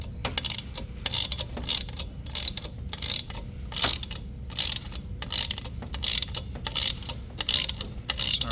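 A ratchet loosening a brand new 13mm nylon nut, a fast series of close, crisp clicking bursts in a repeating back-and-forth rhythm, with brief pauses between strokes and no talk.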